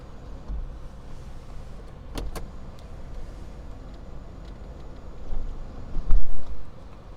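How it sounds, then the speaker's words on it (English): A low electric motor hums steadily inside a 2021 Honda Insight Touring as the one-touch power moonroof opens and closes, with a couple of sharp clicks partway through and a louder thump near the end. "A one-touch power moonroof, opens, closes, tilts, all that good jazz."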